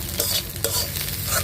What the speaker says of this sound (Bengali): মরিচ পেঁয়াজ দিয়ে এই যে ঝুরঝুর করে ভেজে দিলাম